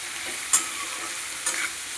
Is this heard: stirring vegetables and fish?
yes